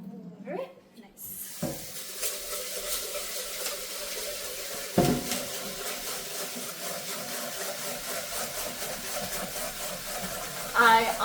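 Steady running water from a tap splashes over rice grains in a sink, a continuous rushing wash that swells briefly near the end.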